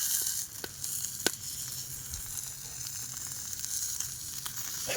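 Fish frying in plenty of hot oil, a steady close sizzle with occasional sharp crackles and pops, heard alone with no talking.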